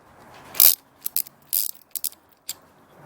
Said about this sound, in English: so we're going to take one of the spark plugs out.